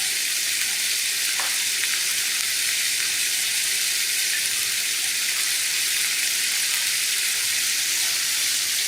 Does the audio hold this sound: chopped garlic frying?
yes